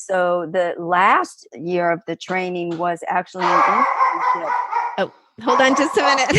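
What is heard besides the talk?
dog barking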